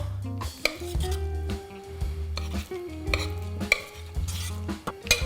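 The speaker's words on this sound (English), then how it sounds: "Now that the oatmeal is done, we are gonna split it between 2 bowls, like so." Cooked oatmeal, a caramelized banana protein oatmeal, is spooned out between two bowls, giving soft scrapes and a few sharp utensil-on-bowl clinks over a steady tonal background, with no talking.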